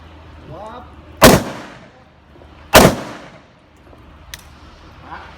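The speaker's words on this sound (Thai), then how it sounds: "ปืนสั้น ต่อเนื่อง" Two sharp, loud pistol shots ring out about a second and a half apart at an outdoor shooting session, each with a short echoing tail, and faint voices can be heard between them.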